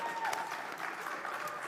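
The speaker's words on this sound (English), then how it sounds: "A round of applause for Uche as well" Brief burst of audience applause at a conference, a dense patter of many hands clapping together, fairly close and sustained for the short stretch.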